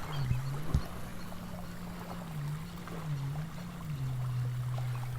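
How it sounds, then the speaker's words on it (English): Water pouring steadily out of a pipe at an archaeological site in summer, a continuous rushing flow with a low droning hum underneath, moderately loud and close throughout. "Look at all the water pouring in here."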